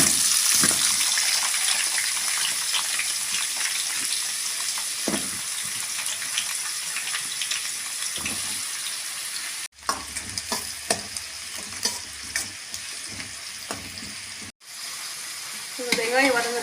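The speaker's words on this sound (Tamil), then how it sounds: "நான் தனியாக கத்திரிக்காய் வதக்கிறதுக்காக எண்ணெய் விட்டுக்கிறேங்க" Chopped brinjal fries in hot oil for a Tamil brinjal thokku, giving a loud, continuous sizzle close by, with scraping stirs and clinks of a spoon against the pan and two brief breaks in the sound.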